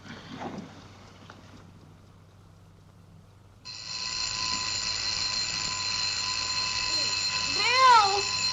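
An alarm clock in a 1930s home rings with a steady, loud metallic bell that starts abruptly after quiet room tone and keeps going without a break to the end.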